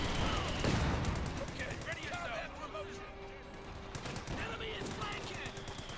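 Rapid bursts of .50 cal machine-gun fire amid battle noise in the real-time strategy game Company of Heroes 2, with a caster talking steadily over the shooting.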